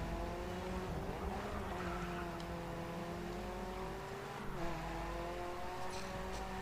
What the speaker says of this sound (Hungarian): F1 motor van előttem.